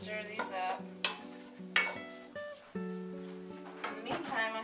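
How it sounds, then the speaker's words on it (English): Burrito filling sizzling in a pan while being stirred, with scraping utensil strokes and a soft frying hiss, close by under a person's voice and background music. "I'm going to just stir these up."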